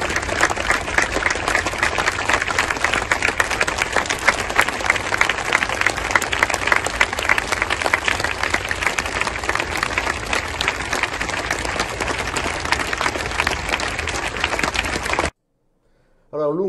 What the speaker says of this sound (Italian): Applauso, l'avete visto